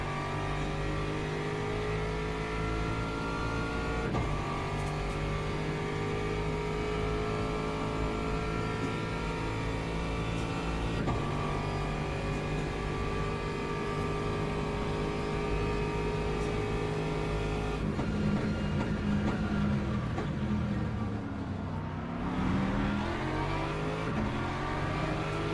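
A race car engine in the Le Mans Ultimate sim racing game drones loud and steady throughout, with gear shifts stepping the pitch and revs rising and falling through corners; no voices.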